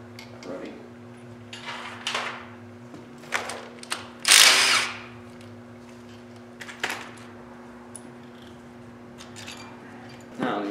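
Hand ratchet on the injector hold-down bolt of a Detroit Diesel 3-53 engine during teardown, giving short intermittent clicking strokes spread across the stretch, with one louder harsh burst midway over a steady low hum.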